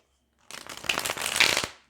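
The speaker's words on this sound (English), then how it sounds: "So we're shuffling on camera. Okay, we're gonna do one more shuffle." A deck of tarot cards is shuffled close up, a quick papery riffle of flicking cards lasting just over a second on its own, with no talking.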